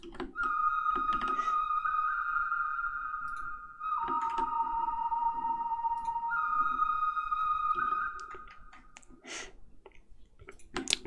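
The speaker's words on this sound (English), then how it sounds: "And then I have some whistles in the background going on every second bar." Sustained whistle-like tones glide and hold in the background of a music track, steady and fairly loud, with a short pause mid-phrase before resuming.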